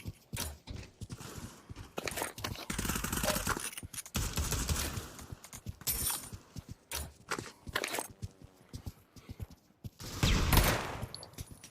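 Dual-wielded 5.7 pistols firing in a video game, loud sharp shots in rapid, uneven bursts with short gaps between strings, mixed with other in-game action noise.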